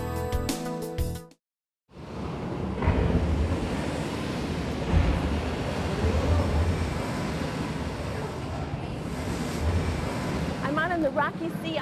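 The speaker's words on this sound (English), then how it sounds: "The rocky sea on board Ernest Shackleton's ship on the way to the Antarctic" Rough sea waves surge and crash continuously against a ship bound for the Antarctic, with gusting wind noise, after a brief burst of other sound and a moment of silence.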